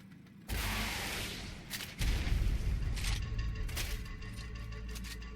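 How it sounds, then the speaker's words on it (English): A rocket launcher firing in ARK near the Island snow cave, a heavy booming blast followed by rumbling explosions and sharper bangs trailing off. "use a rocket launcher to aggro it"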